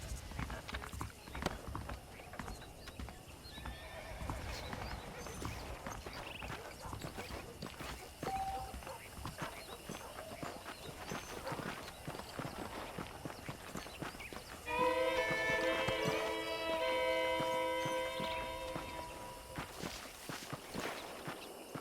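Saddled horses walk in the Western video game Red Dead Redemption, their hooves clip-clopping in a quiet, uneven rhythm. Faint ambient game sounds run underneath, and a brief tonal passage appears partway through.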